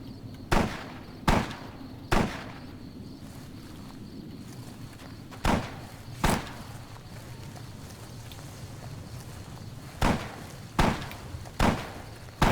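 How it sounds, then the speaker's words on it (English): Sharp, isolated gunshots in the video game Fallout ring out in small clusters of two or three, separated by pauses, with a faint background hum between them. "I hear gunfire, but I don't know where it's coming from"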